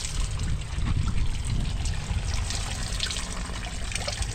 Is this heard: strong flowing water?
yes